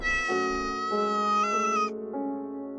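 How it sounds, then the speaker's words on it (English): A cat lets out a string of drawn-out, tonal meows, three or four rising and falling calls, loud and close with no talk. No purring comes through. "The cat purrs, a deep, rumbling sound that makes me smile."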